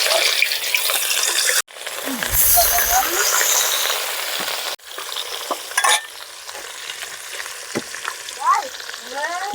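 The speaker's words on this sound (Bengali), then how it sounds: "মাছগুলো এবার আমি কড়া করে ভেজে নেব" Katla fish pieces frying hard in hot oil, a loud, dense sizzle broken by abrupt cuts, with splashes of water and faint background voices in the later part.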